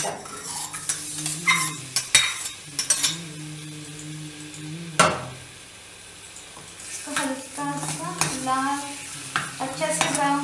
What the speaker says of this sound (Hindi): देखो ऑयल डालने के बाद इसमें अदरक और लहसुन की पेस्ट डाल दूँ।